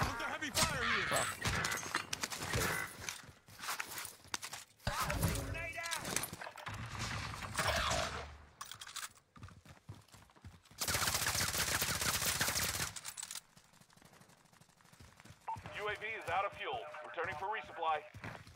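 Gunfire in a video game battle, bursts of shots and rapid fire cutting in and out, with a voice talking over much of it.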